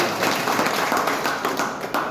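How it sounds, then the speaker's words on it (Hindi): Seminar audience clapping, a dense steady patter of many hands at moderate loudness, continuing without a break for about two seconds. "चलिए एक बार जोरदार ताली बजाइए"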